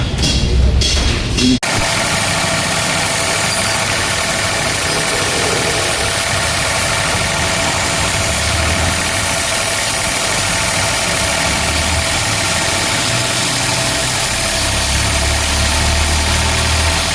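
A Hero Splendor BS6 motorcycle, freshly repaired with its injector refitted, idles steadily at close range with a low, even engine hum and light vibration, following a brief louder burst at the start, with no talking.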